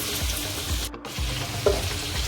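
Spicy chicken fries in hot oil with a steady, crackling sizzle, close and constant, broken by a brief dip and a faint clink partway through.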